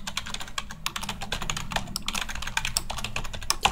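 Rapid keystrokes on a computer keyboard as a command is typed into Vicon Nexus 2 software, a steady, close stream of clicky taps running throughout with no voice.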